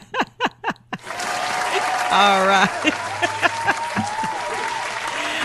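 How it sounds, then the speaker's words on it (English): Studio applause breaks out after a few separate claps at a radio interview show, building to a dense burst of clapping with a few chuckles and voices mixed in, then thinning out. "So let's give him a hand."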